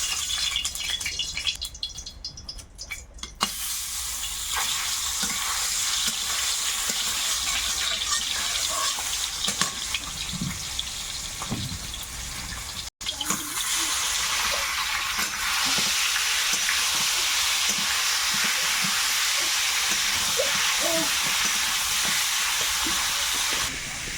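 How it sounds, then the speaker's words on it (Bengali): Large aair fish frying in hot oil in a kadai (wok) in an outdoor Sundarban kitchen: a loud, continuous hiss and sizzle with small pops, steady throughout and close by. "কড়াইয়ে এখন তেল দিয়ে দেবো এই মাছ আবার একটু ছিটকায় ফাটে"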